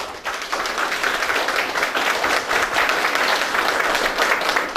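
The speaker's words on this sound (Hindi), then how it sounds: "आपने एक जोरदार ताली पहले दीजिए।" An audience at an event bursts into loud, sustained applause, with dense clapping filling the room steadily from start to finish and no voices above it.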